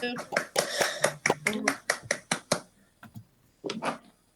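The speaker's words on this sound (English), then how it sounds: "Round of applause." Board meeting attendees clap in several loud, uneven bursts that taper off, followed by a brief pause and a final short round of claps, with a voice briefly speaking amid the applause.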